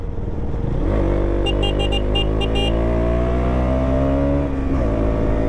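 A 2023 KTM Duke 200 motorcycle accelerates hard on a full-speed run in Dehradun, its loud, close engine whine climbing steadily in pitch, dipping briefly at a gear change, then pulling on, with no talk.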